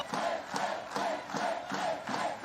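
A crowd at a beach volleyball match in Brasilia chants and cheers in a steady rhythmic pulse, the surges repeating about twice a second from a large, somewhat distant mass of fans.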